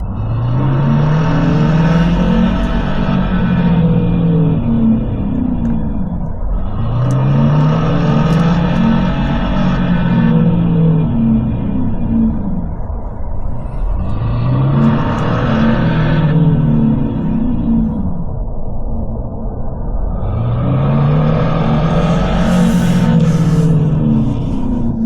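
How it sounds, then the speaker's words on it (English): A simulated car engine sound revs up repeatedly, each surge climbing in pitch and then dropping back, four loud accelerations in a row with no talking. "let's just step on the accelerator now."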